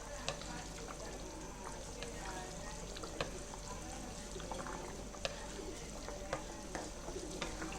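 Beef rendang stirred in a pan, a steady close bubbling sizzle with sharp spoon clicks and scrapes scattered throughout; a voice is faintly present underneath.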